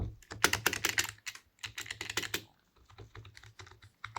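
Rapid bursts of typing on a computer keyboard, clicking in quick runs separated by brief pauses, close up with no talking.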